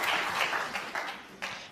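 An audience applauds at the 2020 World Snooker Championship final between Ronnie O'Sullivan and Kyren Wilson, steady clapping from a crowd with a few sharper bursts, fairly close and without talk.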